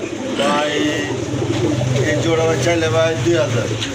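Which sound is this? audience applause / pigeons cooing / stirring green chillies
pigeons cooing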